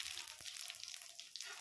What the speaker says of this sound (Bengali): দেখো জিরে আর শুকনো লঙ্কা ফোড়ন দিয়ে দিলাম